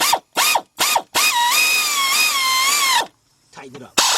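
A hand ratchet tightens a bolt on a BMW 528i alternator: several short, loud, close bursts of clicking, then one long sustained ratcheting run, a pause and fainter clicks at the end.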